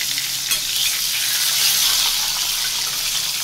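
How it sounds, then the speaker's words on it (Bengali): Steady frying sizzle of pointed gourd pieces in hot oil, a close, continuous crackling hiss with a faint clink near the start. "এই যে পটলগুলো ভাজা চলছে"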